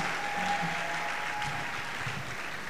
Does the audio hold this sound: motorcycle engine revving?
no